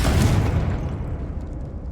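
Confringo explosion spell going off in Hogwarts Legacy, one loud booming burst that rumbles and fades over about two seconds.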